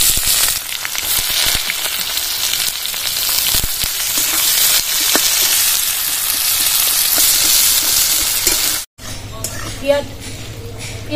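Chopped onions fry in oil with bay leaf, dried red chilli, cumin and salt, making a loud, close, continuous sizzle with occasional stirring, then a sudden cut to a quieter stretch.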